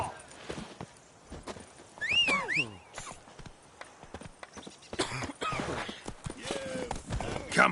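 Roach, a horse in the Witcher 3 video game, clip-clops along with hooves falling in an uneven rhythm, joined by scattered game sounds and a few whinny-like tones, all at a moderate level.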